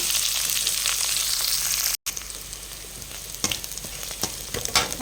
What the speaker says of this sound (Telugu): ఆయిల్ తాగిన తర్వాత ఆవాలు అలా చిట్లిన వెంటనే ఆనియన్ను కరివేపాకు పచ్చిమిర్చి అయితే వేద్దాము